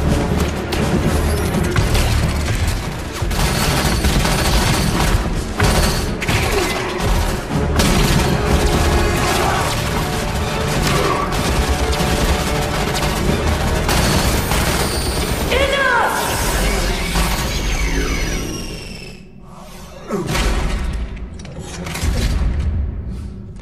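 Gunfire and explosions from Halo 5: Guardians fill a heavy battle against the Warden. Rapid weapon fire, booms, mechanical clanks and crashes run loud and continuous, with whooshing energy sweeps and brief lulls near the end. Voices speak through the fight.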